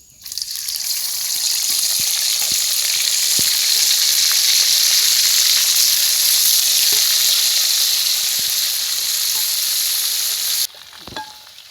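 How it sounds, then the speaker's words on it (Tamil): Dried fish fries in a pan in a village kitchen, giving a loud, continuous sizzle that holds steady for about ten seconds and then cuts off abruptly. "கருவாடு பொறிஞ்சிட்டு இறக்குவோம்"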